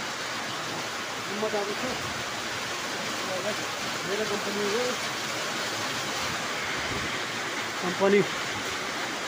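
Steady rain falls, a constant even hiss that lasts throughout and fills the background. Someone talks briefly over it.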